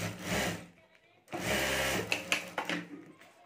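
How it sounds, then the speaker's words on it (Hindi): A sewing machine stitches oiled plastic laminated fabric for a homemade sling bag. It runs in two close bursts of rapid, even whirring with a short pause between them, then gives a few brief clicks. "अभी यहाँ भी ऊपर हमें एक सिलाई कर देनी है"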